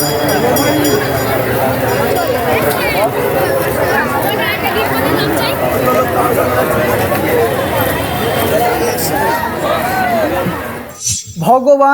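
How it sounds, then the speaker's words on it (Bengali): Dense crowd gathered around a Shiva temple pond in Gaighata, a loud continuous babble of many overlapping voices with occasional clinks, close and busy throughout. "সারা পুকুর জুড়ে গিজ গিজ করছে লোক"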